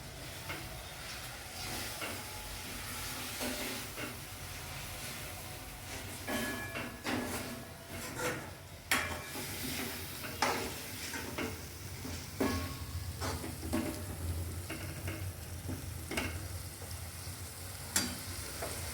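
Boiled pigeon peas (tuvar) hit a hot pan and sizzle steadily, with repeated stirring scrapes and clinks over a continuous frying hiss, close and moderately loud.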